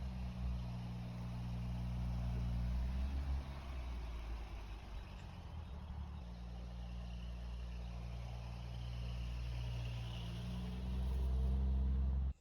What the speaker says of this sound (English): Lovely straight six in there. Bit of choke off. Column change, of course. And we're off.